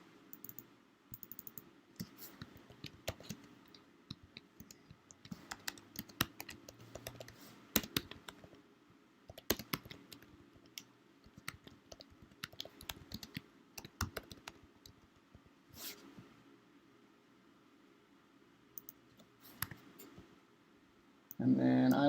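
Rapid, uneven bursts of typing on a computer keyboard mixed with occasional clicks, close and moderately soft, while ad copy is entered; a voice speaks briefly near the end.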